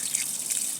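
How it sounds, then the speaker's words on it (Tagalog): Tap water running while hands are washed, a steady light splashing trickle close by, soft and continuous without any voices. "Hugas muna tayo ng kamay guys"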